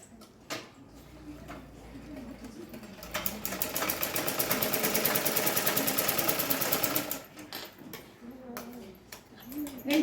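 An electric sewing machine stitches a seam on a blouse, a rapid, even mechanical whir rising for several seconds and then stopping, framed by handling clicks and fabric shuffling close by.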